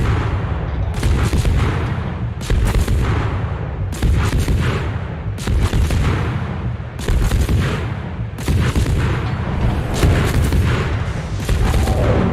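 Warship main guns firing in World of Warships, a heavy broadband boom repeating about every one and a half seconds in a steady loud salvo rhythm, with no talk over it.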